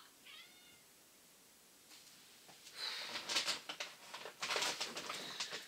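A pet cat gives a brief, faint meow indoors, followed by louder rustling and clattering handling noises close by.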